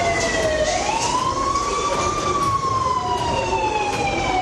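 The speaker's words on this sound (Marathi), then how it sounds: "मॉकड्रिलमध्ये सायरन वाजवून लोकांना अलर्ट केलं जातं" A siren wails during a mock security drill, a loud rising and falling tone that sweeps up and holds steadily, heard close and continuous over background noise.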